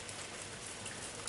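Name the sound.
summer rain pouring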